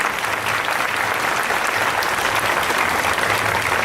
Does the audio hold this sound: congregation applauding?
yes